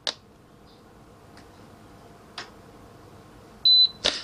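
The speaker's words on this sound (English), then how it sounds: "there's a little beep, little key icon's going, showing that now the valve head is unlocked" A short, high electronic beep from an F63B1 water softener valve head sounds clearly near the end, amid a few sharp clicks from button presses in a quiet room.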